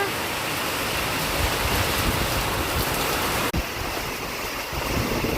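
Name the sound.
rain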